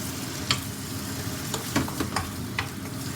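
Salmon and basil stir-fry sizzling in a pan after a splash of water, a steady close hiss broken by a few sharp spatula scrapes and stirring clacks, no voices.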